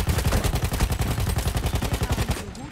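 Rapid automatic weapon fire in the Battlefield 1 video game, a long regular burst of evenly spaced shots with a somewhat plastic, less booming tone, loud and close, trailing off at the very end.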